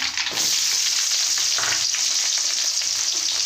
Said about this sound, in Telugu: ఉల్లిపాయ ముక్కలు వేసుకోవాలి